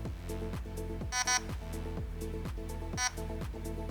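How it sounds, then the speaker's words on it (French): A rapid, regular series of electronic beeps from an airsoft gun's electronic trigger unit repeats in a steady rhythm, with a couple of brighter, higher tones standing out. "Une nouvelle séquence de bips sonores se fait entendre"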